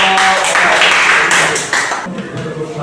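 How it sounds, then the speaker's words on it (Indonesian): Classroom applause for a student group that has just finished presenting, a burst of many hands clapping at once that fills the room and then thins out toward the end. "Tepuk tangan buat kelompok."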